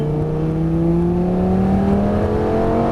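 A Lamborghini Gallardo accelerates hard along the straight at Nogaro circuit, its engine note climbing steadily through the rev range, loud and close, alone without talk.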